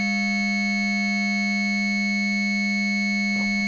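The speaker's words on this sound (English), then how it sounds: "as I bring these up, you get more different kind of tones, right?" Modular synthesizer running through an envelope follower and EQ, holding steady sustained drone tones stacked in harmonics, with a brief soft blip near the end.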